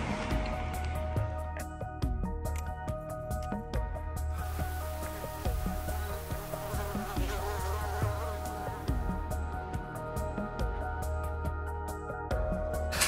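Mosquitoes caught in a dry ice surveillance trap buzz in a continuous high whine, with the thin droning layered over a low steady hum for the whole stretch, close and fairly quiet with no voices.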